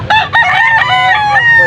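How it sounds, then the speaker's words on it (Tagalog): Chickens and a rooster at a chicken market in Pampanga: one loud, close rooster crow rings out with a strained, drawn-out call, over brief clucking. "Nandito tayo sa bintahan ng mga manok."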